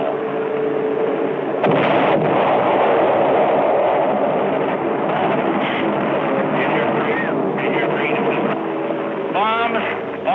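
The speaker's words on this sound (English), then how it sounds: "Bombs." Bombs exploding during a wartime air strike: heavy, rolling booms and rumbling blasts over a constant drone of aircraft, loud and continuous, with someone narrating over them.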